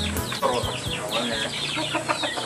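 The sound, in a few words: chickens clucking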